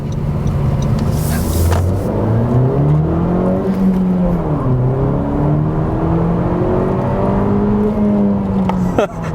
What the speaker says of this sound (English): I'm just gonna go ahead and do one more little acceleration